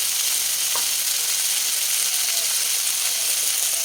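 Chickpeas frying in a home kitchen pan give off a steady, even sizzle with a soft background hiss. The sound runs continuously at a moderate level with no voices.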